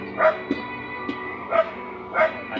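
A dog barks in a loose series of about four yips and woofs, fairly close, with a steady hum and faint voices beneath.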